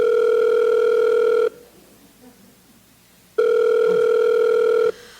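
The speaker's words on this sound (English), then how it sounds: "Ringing the police department." A telephone rings twice through the earpiece, two long electronic tones separated by a pause of quiet line hiss.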